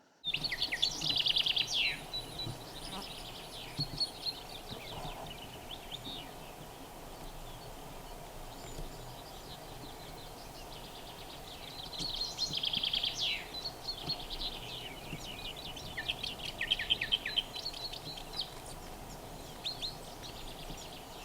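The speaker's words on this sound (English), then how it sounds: "I think this might be a female Sardinian warbler" Scattered high, scratchy calls and chattering notes of a female Sardinian warbler in bursts, moderately close, over a faint steady outdoor background on Lesvos.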